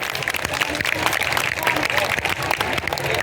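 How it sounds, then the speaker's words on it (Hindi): A crowd at a Parshuram Jayanti gathering at Gufa Mandir in Bhopal claps in welcome, a dense, sustained wash of applause with no break. "तो ताली बजाकर स्वागत करिए।"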